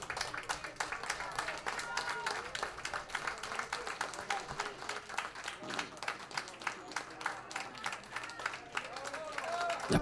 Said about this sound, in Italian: Applausi del pubblico